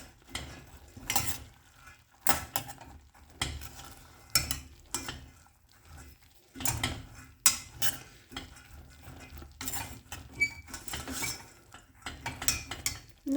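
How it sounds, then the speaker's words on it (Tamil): Boiled green gram with a little salt is stirred in a pot, giving quiet irregular scrapes and knocks of a spoon against the metal, with soft pauses between strokes and no talk. "இப்போ இதை ஒரு குயிக் மிக்ஸ் கொடுத்துடலாம்."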